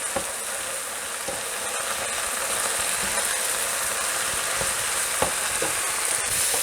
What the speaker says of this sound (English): We're going to add in our mushrooms and saute those for about 2 to 3 minutes